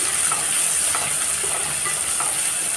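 Chopped onions sauté in a hot pan on high flame for veg pulao, a steady broadband sizzle with faint scraping strokes from stirring, close and continuous.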